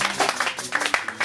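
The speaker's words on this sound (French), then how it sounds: "Encouragez-les à donner des acclamations au Seigneur." Church congregation applauding and cheering before a singer performs, a short burst of uneven clapping with voices underneath.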